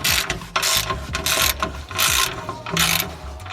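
Ratchet wrench with a 14 mm socket working on the Y-pipe nuts of a G37 exhaust, a close, loud burst of rapid clicking strokes repeated in four or five quick runs with short pauses between.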